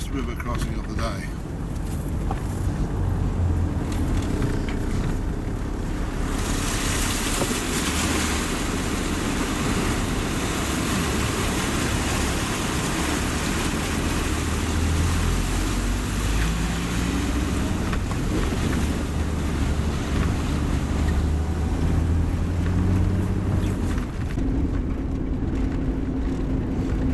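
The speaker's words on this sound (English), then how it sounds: "And our first river crossing of the day." Vehicle driving through a river crossing on an outback road, with a steady engine rumble and continuous rushing, splashing water throughout, loud and close.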